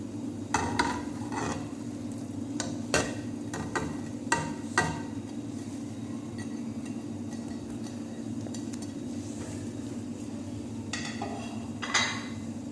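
Capsicum, mushroom and onion being stirred into minced beef in a pan, with repeated metal utensil scrapes and clinks over a steady low background hum, no talking.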